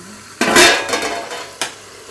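A lid goes onto a cooking pan of boiled egg gravy with tomatoes, a loud metallic clatter followed by a softer second clink, alone and close.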